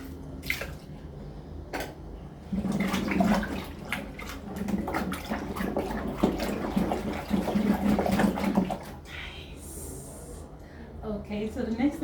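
Running water splashes while something is rinsed during liquid soap production, a continuous trickle with drips under a person talking nearby.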